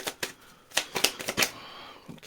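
Tarot cards being shuffled by hand in a run of crisp riffling bursts, close and fairly quiet, with no voice.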